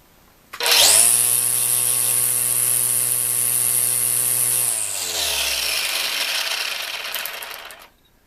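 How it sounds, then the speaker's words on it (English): A cordless Makita LXRU02Z lithium-ion string trimmer spins up to a steady high whine, runs evenly for a few seconds, then winds down on release and falls quiet. "just to give you an idea what this thing sounds like when it's running"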